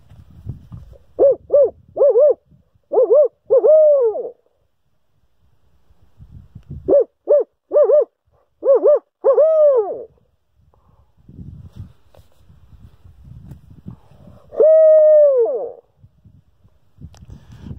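A man imitates a barred owl call, giving loud, close hooting phrases in two rhythmic series of quick hoots ending in drawn-out notes, followed later by a single long descending hoot, with quiet shuffling between.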